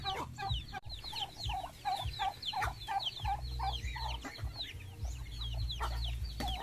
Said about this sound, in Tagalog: dami din tayong manok mga idol